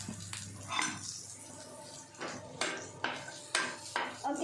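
Telangana-style dry chicken fry is stirred in a pan, with a spoon scraping and clinking against the metal in several distinct strokes at roughly half-second to one-second intervals. The sounds are close and moderately loud, and no one speaks.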